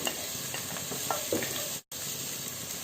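Vegetables with spring onion and celery stir-fried on high flame for restaurant-style chicken fried rice, giving a steady close sizzle with scraping stirs, broken by a brief drop to silence near the end.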